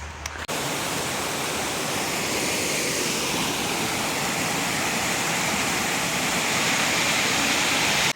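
A creek flows along the Appalachian Trail in a loud, continuous rushing wash close by, starting suddenly after a brief click and holding steady to the end.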